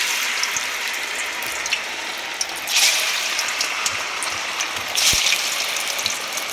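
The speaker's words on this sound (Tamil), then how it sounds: "நல்லா கிறிஸ்பியாக பொரிஞ்சுக்கிட்டு இருக்கு" Aval vada sizzles in hot oil in a kadai, a steady dense crackling hiss with brief louder bubbling swells, close and continuous with no talking.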